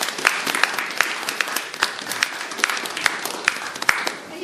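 Applause at the opening of an art exhibition in Põltsamaa, a steady wash of many hands clapping from a sizeable indoor crowd with a few sharper individual claps standing out.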